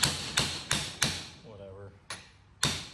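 Sharp hammer blows on a metal socket during a Mercedes W463 G500 center driveshaft CV joint rebuild, about six hard strikes in an uneven rhythm, with a short pause in the middle where a low voice murmurs.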